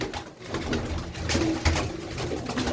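Domestic pigeons coo in a low, soft, throaty murmur, several birds overlapping near the listener in a steady rolling drone with no talk over it.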